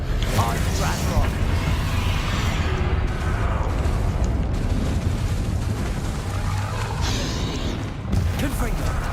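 Loud, continuous rumbling blasts and crashes from Bombarda spell explosions in Hogwarts Legacy, filling the soundscape for the whole stretch with layered booms and mechanical clatter.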